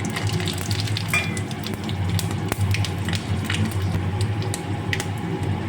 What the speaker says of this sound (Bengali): এবার কড়াতে দেখো তোমার হচ্ছে তেল দিয়ে দিয়েছি, তেলটা গরম হয়ে গেছে। এবার আমি ফোড়নগুলো দিয়ে দিলাম।